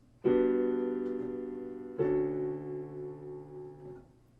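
Two sustained, rich seventh chords played one after another, each struck cleanly and left to ring and slowly fade, with no voices.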